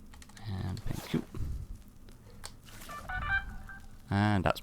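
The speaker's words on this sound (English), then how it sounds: "It's not actually my phone, it's Discord on my phone." Discord notification tones from a phone, heard as short bright chimes over faint clicking and room noise, with a final louder chime burst near the end.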